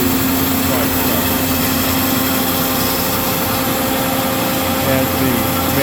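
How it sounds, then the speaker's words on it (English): A Marvel MV 525 vertical mitering bandsaw with hydraulic drive runs continuously, a steady loud mechanical drone with a constant whine and no breaks throughout. "These saws are noisy by nature with the hydraulic drive and everything."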